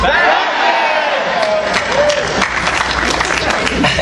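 Convention panel audience at New York Comic Con cheering and clapping in a loud, sustained burst of crowd noise that fills the whole stretch without pause.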